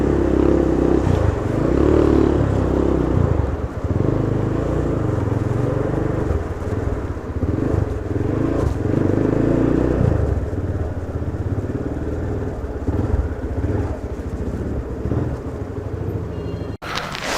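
A Rokk 150cc motorcycle built as a KTM Duke replica runs steadily, a loud close engine drone with wind buffeting and slight rises and dips in revs throughout.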